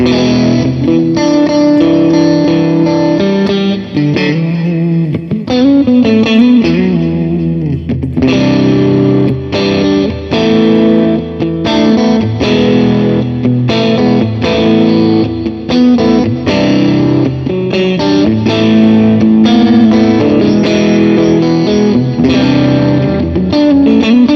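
Electric guitar with a crunchy mid-gain tone through a Vox AC30 amp plugin plays a continuous, loud riff of chords and single notes with no talking.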